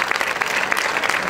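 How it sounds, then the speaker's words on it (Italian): Brisk applause from the crowd at a Marian song festival in Squinzano as a singer is introduced, close, loud and continuous clapping for the whole brief moment. "Un applauso, grazie."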